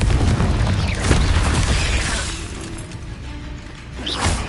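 The Confringo blasting spell explodes in a Harry Potter video game, a heavy boom with shattering debris and a whooshing tail that decays, followed by another smaller burst near the end.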